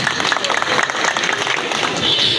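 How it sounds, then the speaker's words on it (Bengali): An audience at a reception ceremony applauding an honored recipient, dense steady clapping from a crowd that stays loud throughout, with voices faintly mixed in. "তার জন্য একটি করতালি"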